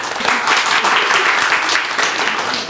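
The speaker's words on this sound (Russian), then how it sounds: "аплодисменты" A close, loud wash of audience applause with no break, many people clapping together at a steady rate.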